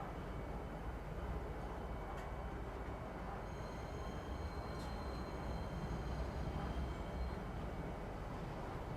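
A metro train in the Star Citizen game pulls into a station, with a steady, loud rolling rumble and faint high wheel squeals and tones that rise and fade near the middle.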